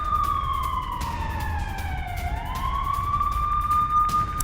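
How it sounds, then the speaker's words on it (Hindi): An air raid warning siren wails over Jammu during India-Pakistan hostilities, its pitch sliding down and then climbing back up in a long, steady sweep that runs throughout at a moderate distance with no talk. "एक बार फिर से सायरन सुनाई दिया है।"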